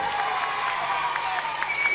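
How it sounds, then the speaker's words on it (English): Ringside audience applauding and cheering at a holiday-park show, a steady broadband wash of clapping with scattered whoops throughout, close and continuous with crowd murmur underneath. "give yourselves a round of applause, boys and girls on ringside"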